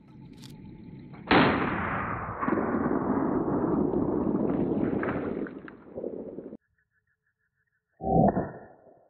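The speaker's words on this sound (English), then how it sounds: "As y'all saw, that 12 gauge buckshot has some power." A 14-inch short-barrel Mossberg 12 gauge shotgun fires a single loud buckshot blast outdoors, followed by a long rumbling echo that fades out, then a second sharp impact or shot near the end, with no talking.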